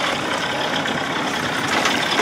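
A 1979 Evinrude 55 hp outboard motor idles steadily, close and fairly loud, with a continuous rough, noisy drone throughout and no voices.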